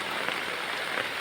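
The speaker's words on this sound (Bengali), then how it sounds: "বৃষ্টি পড়ছে, বাইরে ছাতা নিয়ে ঘুরছি" Steady rain pours down across a village outdoors, a dense, even hiss of drops striking surfaces close by, continuous and unbroken with no voices.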